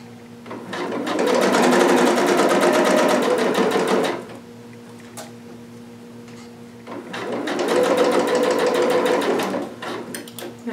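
A sewing machine stitches stretchy lining fabric in two sustained close runs of rapid mechanical chatter, each about four seconds long, separated by a quieter pause with faint background noise.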